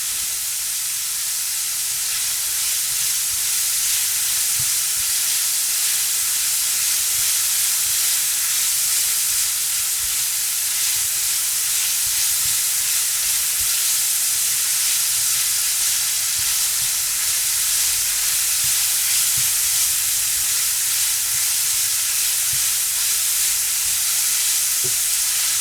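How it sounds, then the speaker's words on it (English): Pork fried rice stir-frying in a pan, a steady broadband sizzle and hiss running throughout at a constant level, with occasional faint scrapes of stirring mixed in and no talking. "And just stir fry it up."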